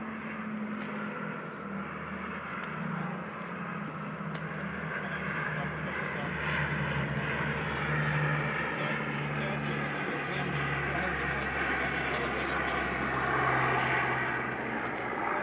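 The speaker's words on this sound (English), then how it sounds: "There's the plane peeking over the mountain." A propeller airplane drones over a mountain during a wildfire, a steady low engine hum with a broad rushing noise that swells slightly as it nears, heard continuously beneath wind and background noise.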